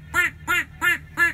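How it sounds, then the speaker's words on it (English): A duck call whistle blown four times in an even rhythm, each a nasal, reedy quack, close and fairly loud over a low background hum. "We've got a duck whistle."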